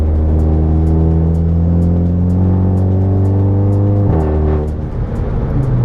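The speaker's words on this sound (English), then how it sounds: "This new exhaust is pretty insane." VW Golf 7 GTI with an aftermarket exhaust idling and revving, a deep steady drone close up that holds for several seconds, then a quick blip and rising rev.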